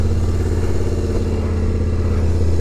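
A Yamaha Tenere 700 motorcycle engine idling after start-up, a loud, close, steady low rumble with an even throbbing firing pulse throughout.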